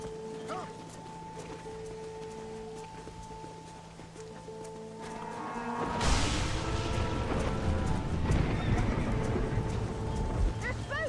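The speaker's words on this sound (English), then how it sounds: "They're spooked. We have to stop the stampede." Spooked horses stampeding in Red Dead Redemption, hooves and whinnies building into a loud, dense rumble that swells sharply midway and stays heavy to the end, with music and game effects underneath.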